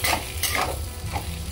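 Spiced potato filling with dry mango powder is stirred and roasted in a pan for a village-style samosa, giving a close, continuous sizzle with scraping strokes and no talk.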